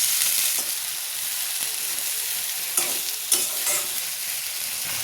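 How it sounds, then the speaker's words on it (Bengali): Garlic, onion, green chili and spine gourd fry in a pan with a steady, close sizzle broken by a few sharp stirring scrapes, and no voices. "রসুন, পেঁয়াজ, কাঁচামরিচ, সাথে কাঁকরোল ভাজি করব।"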